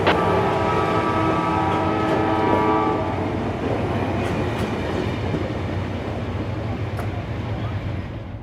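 Freight train pulling out of Winter Haven, a loud horn blast at the start giving way to steady rumbling and clattering wagons rolling past up close.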